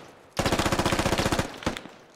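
Rapid automatic gunfire from a weapon in the military shooter game Squad, a fast unbroken burst of about twenty shots over roughly a second and a half, loud and close, followed by one more sharp shot.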